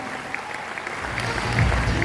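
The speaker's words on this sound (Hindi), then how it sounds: "हम चाहेंगे बाबा रामदेव के लिए जोरदार ताली बजा दीजिए, जो हमारे लिए प्रेरणा स्रोत है।" Training event audience in a Lucknow hall clapping loudly and continuously, a dense wash of applause that swells toward the end with some low rumble beneath.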